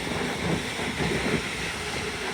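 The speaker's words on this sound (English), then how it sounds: "off goes this cross-country Super Voyager" Cross-country Super Voyager four-car diesel train pulling out of Doncaster station, a steady, fairly loud rolling rumble of wheels on rail with a broad engine hum, continuous throughout and without talk.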